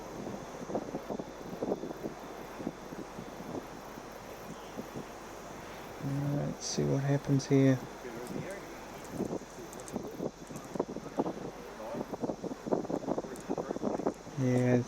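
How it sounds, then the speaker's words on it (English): Wind buffeting a microphone at an outdoor rugby sevens final, a constant rough low rumble and gusty noise throughout, with people talking over it. "That breeze is really starting to push down. You can hear it through the sound effects mic."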